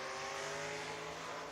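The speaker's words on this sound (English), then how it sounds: "Next two cars making their way to the racetrack" Race cars at Batesville Motor Speedway in Arkansas head onto the track with a loud, steady engine drone that holds a sustained harmonic tone throughout and has no voices over it.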